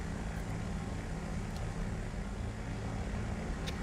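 A biplane engine drones steadily in a flight simulator game, a continuous dense, rumbling roar holding even loudness throughout with no speech over it.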